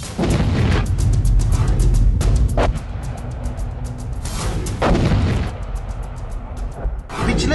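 Cross-border shelling and gunfire from the Pakistani side hit the Arenia sector of Jammu and Kashmir, with loud, dense bursts of shots and heavy booms following one another in quick succession throughout.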